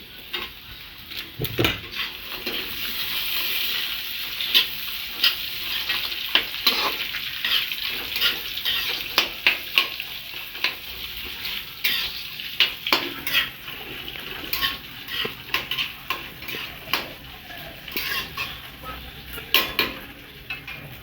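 Cashews and raisins with garam masala frying in a pan for basanti pulao, a steady close sizzle with frequent clinks and scrapes of a stirring spoon against the metal.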